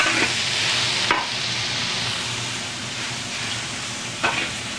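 Noodles and garlic stir-fry in hot oil for Pad Thai, giving a loud, close, continuous sizzle with a couple of brief scraping strokes as the pan is stirred.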